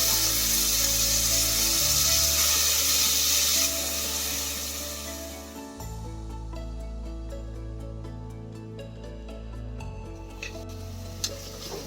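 Chopped tomato sizzles in a pan of browned onions, a steady frying hiss with occasional scrapes and stirring knocks from a utensil, fairly close and continuous.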